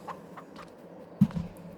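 Chickens in Farming Simulator 22 give a few faint, short clucks at scattered moments, with one louder cluck near the end.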